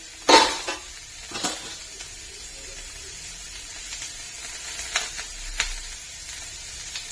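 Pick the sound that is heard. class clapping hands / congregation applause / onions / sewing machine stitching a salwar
onions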